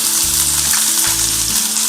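Finely chopped onion frying in a spoon or two of oil in a kadhai, a steady close sizzle and crackle running without a break under low clatter, no voices.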